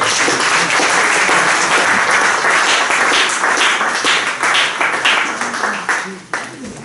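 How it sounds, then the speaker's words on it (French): A church congregation applauding at a Sunday service, loud sustained clapping from many hands that tapers off near the end, with voices calling out over it. "Est-ce qu'on peut acclamer pour le Seigneur?"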